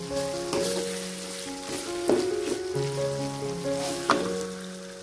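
Food, with lime juice, sizzling and frying in a pan until leaves wilt, a steady crackle with occasional stirring clatters and a low hum running underneath.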